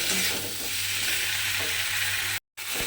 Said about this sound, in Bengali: ঝিঙে দিয়ে আবারও একটু মশলার সঙ্গে খুব ভালোভাবে কষিয়ে নিতে হবে।